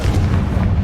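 A Confringo spell blast in Hogwarts Legacy, a loud, close, booming burst with a deep rumbling low end that fills the whole short moment, with no voices over it.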